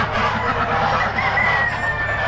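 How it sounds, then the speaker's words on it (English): Several roosters crow and hens cluck in a noisy, dense barnyard chorus at an Amish animal auction that keeps going without pause, with a crow drawn out near the end. "there are roosters everywhere."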